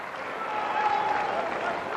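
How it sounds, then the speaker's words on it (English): A stadium crowd at the finish of a 1997 Pac-10 track race at the University of Washington applauds in a steady, diffuse wash, with a commentator talking over it. "that is going to gather the applause of the crowd here"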